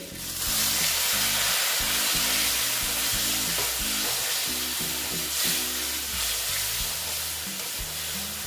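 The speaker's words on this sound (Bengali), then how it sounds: "অ্যাড করে আমি আস্তে আস্তে এটা সাঁতলিয়ে নিচ্ছি, মানে কষিয়ে নিচ্ছি।" Banana flower sizzling steadily in a hot pan with chilli powder and salt as it is sautéed down for mochar ghonto, a loud continuous fry with scraping stirs and a faint background tone.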